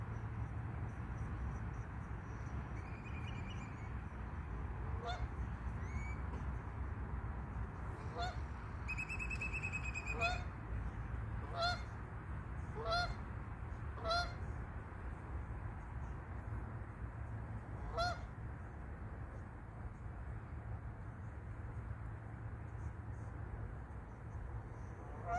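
Geese on a river honk repeatedly, scattered short calls and a few clustered bursts, mostly mid-distance, over a continuous low outdoor rumble.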